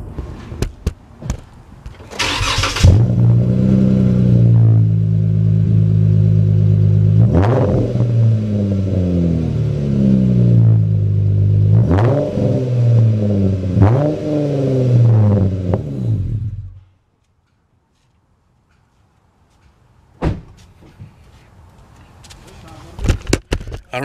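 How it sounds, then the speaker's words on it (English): A Dodge Challenger V6 with a loud aftermarket exhaust starts with a sharp crank and settles into a deep idle, then several quick throttle blips rise and fall before it shuts off into silence; a faint clunk or two follows near the end. "we're gonna see how loud this exhaust is."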